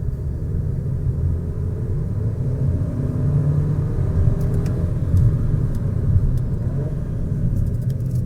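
A 2023 Audi A3 Sedan with a 2.0 TFSI engine driving quietly, a muffled low cabin rumble of road and engine noise that stays steady throughout, with faint ticks above it.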